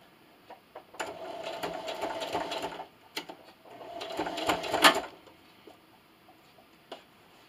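A sewing machine runs a straight stitch along a quarter-inch pillowcase seam in two steady, close bursts of rapid mechanical whirring, separated by a short pause, with soft clicks before and after.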